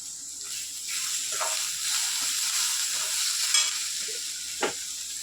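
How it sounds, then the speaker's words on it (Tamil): Chopped onions fry in a pan for fish puttu, giving a continuous sizzle with occasional stirring scrapes and soft clinks, close and steady throughout. "வெங்காயம் கொஞ்சம் நச்சு வெங்காயத்தை போட்டுக்கிறேன். வெங்காயம் கொஞ்சம் நல்லா வதங்கட்டும்."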